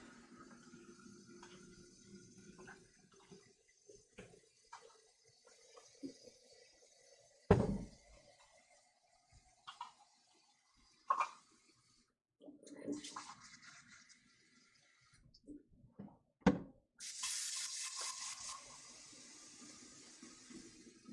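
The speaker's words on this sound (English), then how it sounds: "I'm going to get some water for these pans." Tap water running into pans being filled for dyeing yarn, splashing and gurgling in bursts with pauses and a few knocks of the pans, ending in a steady hiss of the flowing tap.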